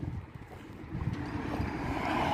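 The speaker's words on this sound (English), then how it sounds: "here on a windy old day, a nice, clear, and windy day" Wind gusts buffet the microphone outdoors on a clear, windy day, a low rumbling roar that swells and grows louder toward the end, with no talking.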